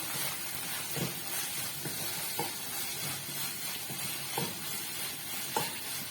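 Fresh curry leaves are torn into a hot pan of chicken curry and sizzle with a steady frying hiss, soft stirring scrapes recurring about every second, with no voices.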